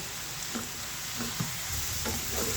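Leafy greens (shak) stir-frying in a pan, a steady hissing sizzle with a few soft scraping stirs from a utensil, close and continuous with no voices.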